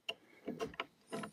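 A wrench tightens the collet on a CNC router spindle, giving a few short, quiet metallic clicks and scrapes spaced unevenly across a brief moment, close by and with no talking.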